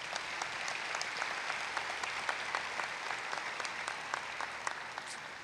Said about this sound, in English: let's just give me a round of applause to recognize those amazing people